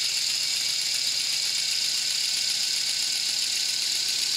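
Car engine idling steadily after a header gasket replacement, a continuous even hum with a light rattling buzz throughout, fairly loud and close, no voices.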